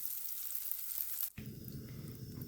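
A tablespoon of butter hits a hot pot and starts to sizzle after an abrupt cut, a soft, steady crackling fry heard alone at close range.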